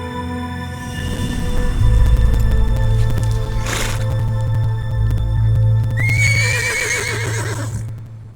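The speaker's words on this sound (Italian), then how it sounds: "anche questo cavallo qua, il nitrito così" In a video game, a horse gives a loud, shrill whinny that rises and then wavers down near the end. Low mechanical droning and game noise sound underneath, and no one speaks.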